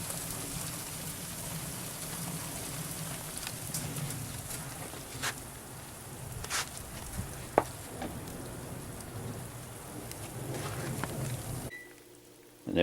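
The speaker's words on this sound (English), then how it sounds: "You can hear it sizzling away and bubbling away." Sicilian pizza cooking in a brick oven, a steady soft crackling sizzle and faint bubbling running continuously with occasional sharper pops, quiet and close, cutting off near the end.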